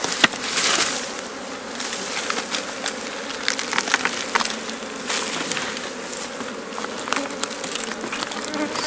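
African honeybees swarm around an upended wooden hive during propolis harvesting, a dense steady buzz of many insects close by, with scattered sharp clicks and knocks of handling over it.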